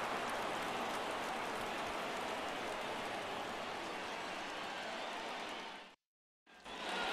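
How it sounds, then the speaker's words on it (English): Steady rain pours in a baseball video game, a dense, even hiss that holds constant for several seconds before cutting out abruptly and resuming. "It feels like we might be headed towards a rain delay if the weather doesn't ease up, Chris."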